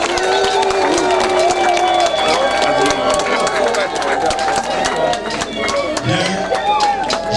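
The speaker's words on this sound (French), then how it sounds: "Sous vos applaudissements," Wedding guests at a customary and civil marriage celebration applauding the newly married couple, loud sustained clapping and cheering from a crowd, with voices and music mixed through it.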